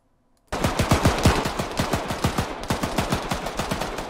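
Automatic gunfire in the military shooter game Arma 3, a rapid loud burst of repeated shots rattling steadily for about four seconds after a moment of silence.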